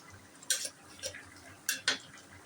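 Pieces of bhetki fish dropped one at a time into boiling water in a kadai for a tomato fish curry, giving a few sharp splashy clinks at irregular intervals, close and fairly loud over a low simmer.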